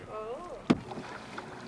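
A kayak paddle drops into the water among towering cliffs, one short splashy knock in the middle of a quiet outdoor scene, with a brief voice just before it and soft wind behind.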